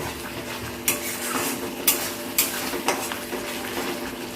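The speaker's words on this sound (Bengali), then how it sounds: "এখন মশলাটা ভালো করে কষিয়ে নেব তেল ছাড়া পর্যন্ত" Spice masala sizzles steadily in hot oil in a home kitchen while being stir-fried, with a utensil scraping and clinking against the pan in a slow, regular rhythm, close and fairly quiet.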